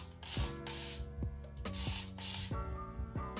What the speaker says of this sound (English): So we're gonna go ahead and spray some of this on here.